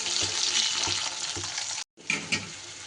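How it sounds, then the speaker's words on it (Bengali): Diced potatoes fry in hot oil after a pinch of salt goes in, giving a steady, close sizzle with light stirring bumps that breaks off briefly near the end before resuming. "একটু নুন দিলে বেশ আলুটা তাড়াতাড়ি ভাজা হয়ে যাবে"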